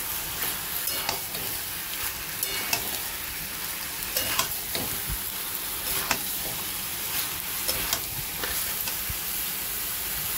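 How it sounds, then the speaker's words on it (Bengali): Four large chopped onions stirred into chicken that has been frying for a few minutes in a pan: a steady, bright sizzle runs throughout, broken by frequent scraping and clicking from the stirring spoon. "এবার দিয়ে দেবো আমি কুচিয়ে নেওয়া বড় সাইজের 4টে পেঁয়াজ। পেঁয়াজটা ভালো করে মিশিয়ে নেব।"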